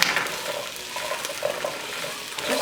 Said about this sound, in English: Just saute it for 3 to 4 minutes